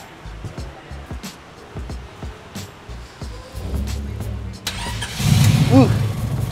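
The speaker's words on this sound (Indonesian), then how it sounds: "sekarang kita akan coba nyalain mesinnya untuk pertama kali" After a stretch of clicks and voices, a car engine is started for the first time, cranking briefly before catching and rising to a rough, close idle as people keep talking.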